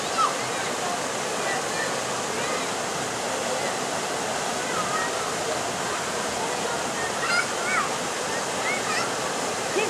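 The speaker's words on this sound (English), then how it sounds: "We're going to go up and come down the rapids." River rapids roar in a steady, loud, unbroken rush of churning whitewater close by for the whole stretch, with faint voices occasionally surfacing beneath the torrent.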